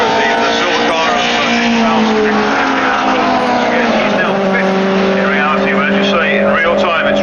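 Alfa Romeo race cars, including a GTV6 and Alfa 33s, roaring past at Brands Hatch in a Dutch Trofeo race, a loud continuous engine drone rising and shifting pitch, with commentary talking over it.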